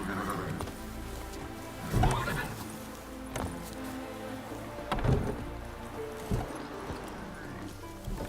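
Roach, a horse in the video game Witcher 3, whinnies and clops her hooves amid a faint patter of rain, with a few louder bursts standing out over a steady background and a voice talking now and then.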